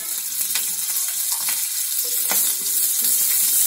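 Slit green and red chillies frying in hot oil, a loud continuous sizzle with faint crackles and soft stirring scrapes, no voices.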